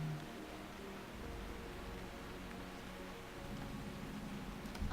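Steady soft rain in World of Warcraft, a faint, even hiss of falling drops with low rumbling ambience, continuous and unbroken.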